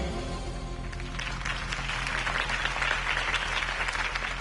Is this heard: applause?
yes